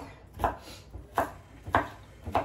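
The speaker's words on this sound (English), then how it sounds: "I'm just getting my celery all cut up" A knife chopping celery on a cutting board, four distinct evenly spaced thunks with pauses between, close and clear, for a Creole-style potato salad.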